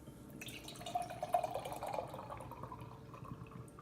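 Bruery Terreaux DFG Bruesicle beer is poured hard into a glass, a soft splashing and trickling fill that swells in the middle and then tapers off, with no talking.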